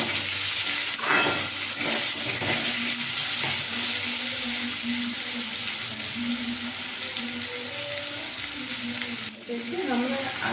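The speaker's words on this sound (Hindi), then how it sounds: "देखिए हमने आलू को 1 मिनट तक फ्राई कर दिया।" Chopped potatoes are fried with onions in a pan, a loud continuous sizzle with occasional scraping stirs and faint tonal background sounds throughout.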